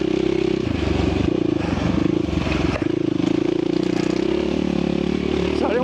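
Dirt bike motorcycle ridden hard on a trail loop, its engine droning loud and close with steady revving, clattering and scraping over rough ground throughout.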